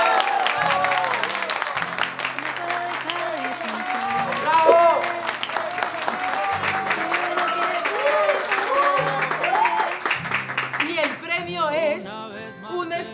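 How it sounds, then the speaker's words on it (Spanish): Applause for an academic excellence award at a ceremony, heard beneath a romantic ballad with sung vocals, the clapping blending into the music for over ten seconds. "¡Aplausos!"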